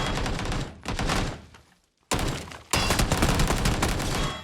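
Rapid bursts of gunfire in the battle royale game PUBG, loud and close, two dense volleys broken by a short silence.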